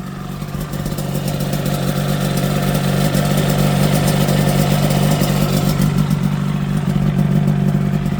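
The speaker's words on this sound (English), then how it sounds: "It's a twin cylinder 250cc engine, and it's got 2 pipes that are directly off the back of the cylinders" A Yamaha TZR250 3MA twin-cylinder 250cc two-stroke motorcycle fitted with JL expansion pipes runs steadily nearby, a loud, continuous buzzing engine note that builds slightly in intensity over the seconds.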